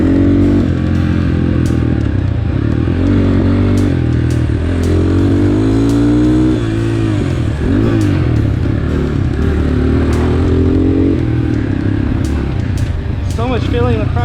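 A GPX FSE250E motorcycle engine drones loudly and steadily while being ridden at Village Creek, its pitch rising and falling with the throttle and gear shifts, with a rider's voice heard over it.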